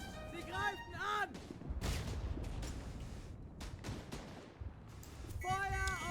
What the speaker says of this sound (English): There's several artillery strikes called down right into our position.